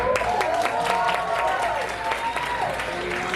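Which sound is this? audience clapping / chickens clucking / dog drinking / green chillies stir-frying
audience clapping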